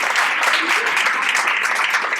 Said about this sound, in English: A big round of applause for Michelle.